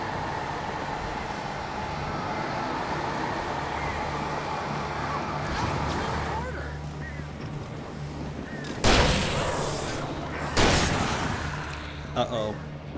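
Gunshots in Alan Wake Remastered, two loud sharp blasts a couple of seconds apart with a smaller crack after, set against ongoing game ambience and someone talking.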